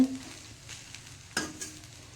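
Gobi fried rice stir-fried in an iron pan, a quiet background sizzle punctuated by a couple of sharp scraping clanks of a spatula against the metal.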